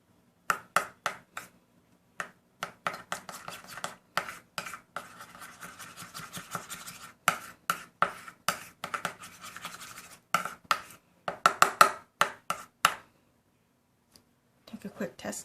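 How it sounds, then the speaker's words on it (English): Pasta salad being tossed with a ranch seasoning packet, giving a rapid series of sharp scraping and clicking strokes in bursts, close and fairly loud, with short pauses between stirring runs. "I'm going to mix this all together."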